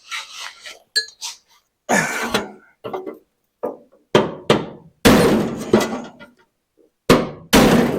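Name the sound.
hammering during MGA car sill repair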